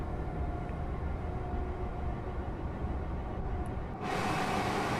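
An IET train rolls past in Train Sim World 5 on the Euston to Milton Keynes line, a steady broadband rumble and rush that holds throughout and swells a little louder near the end, with no talk.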